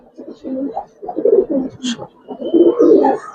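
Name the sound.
Giribaz pigeons cooing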